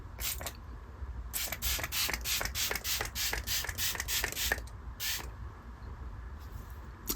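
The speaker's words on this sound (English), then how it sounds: "I am going to spray my face with this" Rapid repeated hisses of a pump bottle of makeup setting spray misted onto a face, a quick burst of many short spritzes close up, then a pause and one more spray.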